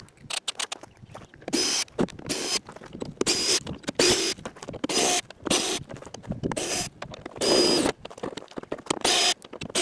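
Ratcheting wrench backing 10mm bolts out of a GMC Sierra Multi-Pro tailgate: bursts of rapid metallic clicking and scraping, repeated in short bouts with brief pauses between, close and clear with no talking.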